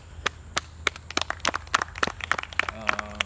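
A small campaign gathering for a town council candidate claps for their host, sharp scattered hand claps from a few people that start sparse and build into quicker overlapping applause.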